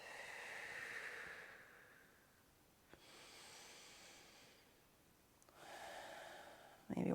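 Slow, soft breaths drawn in and out during a slow-flow yoga session for abs and back, a few long airy inhales and exhales spaced apart, quiet and close with no talking.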